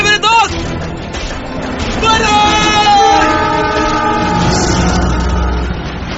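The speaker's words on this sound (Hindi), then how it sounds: "ट्रेन आ रही है" Train passing on a railway track, loud and close: a blaring horn rises over a heavy rumbling roar of wagons that carries on steadily, then gradually thins as it moves past.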